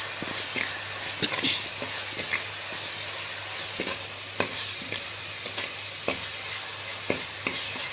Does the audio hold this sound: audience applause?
no